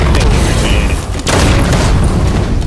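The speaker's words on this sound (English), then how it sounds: "Grenade on the way!" Grenade blast in a Halo multiplayer match, a loud heavy boom amid ongoing gunfire and chaotic game noise, with a brief dip before the roar resumes.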